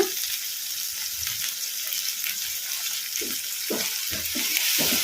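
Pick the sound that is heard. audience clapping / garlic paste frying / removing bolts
garlic paste frying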